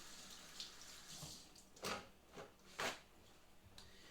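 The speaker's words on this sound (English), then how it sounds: "So we'll take this one and give it a little wash." Tap water runs softly over a yellow bell pepper in a sink, with a few louder splashing bursts as the pepper is turned under the stream, quiet and close.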